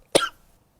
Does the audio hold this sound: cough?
yes